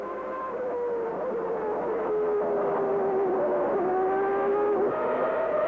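Formula 1 cars race through the streets of Monaco at the 1991 Grand Prix, high-revving engines screaming steadily with pitch sweeps as the cars shift and pass, loud and continuous with no talk.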